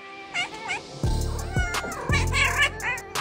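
Several cats meowing in overlapping, wavering calls, near and fairly loud, over a low rumbling background hum.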